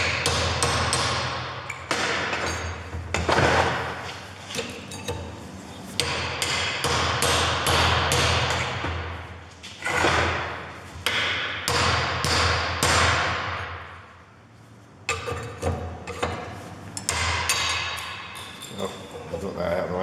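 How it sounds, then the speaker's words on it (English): Repeated sharp hammer-and-chisel strikes on a seized front wheel bearing of a Peugeot 308, loud, close and in irregular bursts with short pauses between volleys. "Now I can go with a hammer and chisel, let's give that a go"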